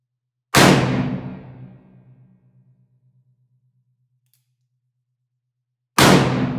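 A single loud shot from an 1860 Armi San Marco black powder revolver with a shortened barrel, a sharp close blast ringing down over about two seconds, then silence until a second shot begins at the end.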